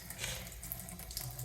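A bathroom tap runs steadily while a toothbrush is rinsed under it, close and continuous with no talk.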